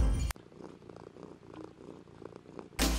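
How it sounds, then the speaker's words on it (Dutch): A pet cat purring steadily and close by, with a soft rhythmic rumble and faint breathy pulses, running alone for a few seconds between louder bursts at the start and end. "Dit is mijn kat, Suus."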